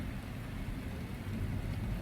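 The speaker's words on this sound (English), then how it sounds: "it's starting to rain in beautiful, non-sunny South Florida today." Rain begins falling in South Florida, a steady low rushing patter that stays faint and even, with a dull rumble underneath and no voices.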